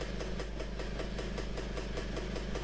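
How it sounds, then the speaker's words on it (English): A James Cadet motorcycle engine idling, a steady, even tick-over with a regular low pulsing thump, close and continuous. "It's quite a steady tick over, which is pleasing."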